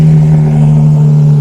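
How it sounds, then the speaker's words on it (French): A Porsche 992 GT3 fitted with a JCR exhaust idles right after starting, a loud, steady, close low drone with no revving. "Premier démarrage, moment de vérité."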